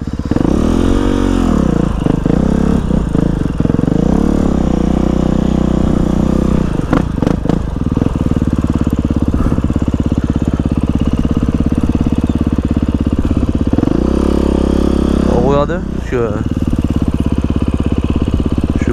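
A motorcycle engine runs loudly and close throughout, with a steady idle broken by revving bursts and one sharp rise in pitch near the end, and no voices.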